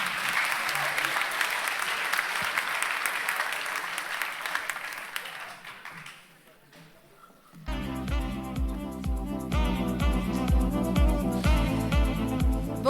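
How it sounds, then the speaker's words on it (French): Sustained audience applause at a business school graduation evening, a dense clapping crowd for about six seconds that fades out before music begins. "On peut l'applaudir."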